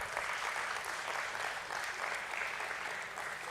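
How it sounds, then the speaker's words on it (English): An audience at a stock exchange listing ceremony for INOX India Limited claps in a steady, dense round of applause that holds at an even level throughout, distant and fairly quiet. "Let's give the entire team a round of applause."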